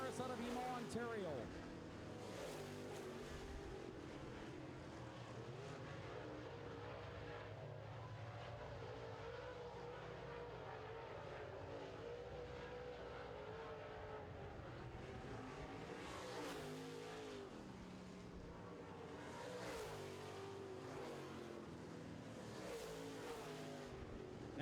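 Late model race cars lap a short oval track during heats, their engines droning and swelling in a steady roar under continuous announcer commentary over a loudspeaker.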